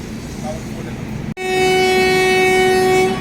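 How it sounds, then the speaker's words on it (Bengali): A train horn sounds at a station as the train is about to depart, a loud sustained tonal blast that follows a low rumbling background and breaks in suddenly after a short gap. "ট্রেন এবার ছাড়বে"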